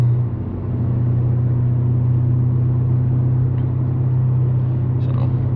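An 800 hp BMW M5 Competition cruising on the road, its engine holding a steady, loud low drone with road rumble and whir throughout, without distinct revving peaks.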